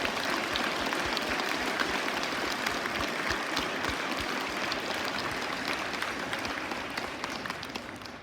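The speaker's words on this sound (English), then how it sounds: "And if we could give our veterans a round of applause." Sustained, hearty applause from a school audience at a Veterans Day program, honoring the veterans present, a dense roar of many clapping hands with distinct nearby claps that eases slightly toward the end.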